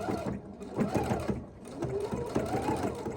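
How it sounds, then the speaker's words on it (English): A Husqvarna Viking sewing machine runs with heavier thread on top, stitching over earlier thin stitches in a steady mechanical whir that surges and eases in short runs, close and clear. "I'm going to make pretty stitches over those thin stitches."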